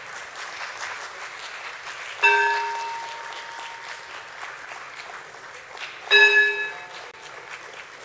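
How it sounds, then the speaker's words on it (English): Steady crowd applause at a Bombay Stock Exchange listing ceremony for Jio Financial Services, with two bright bell strikes ringing out over the clapping and slowly decaying. "You can keep the claps going."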